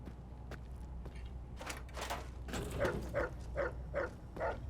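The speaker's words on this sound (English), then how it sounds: "Can hear barking." Dogs bark in the Fallout: New Vegas video game, a series of short barks that grow more regular toward the end, moderately loud over a low steady background hum with no talking.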